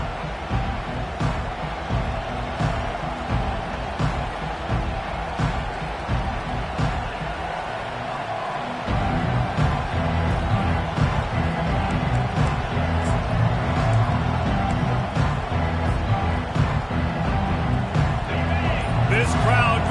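Stadium crowd roaring at a Michigan vs Ohio State college football game, a constant loud wash of noise that swells partway through, under continuous commentary.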